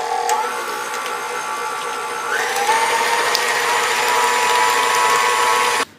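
An electric hand mixer whirs steadily through banana bread batter as an egg is blended in, a close continuous motor whine that shifts pitch partway through and cuts off at the end, with no talking.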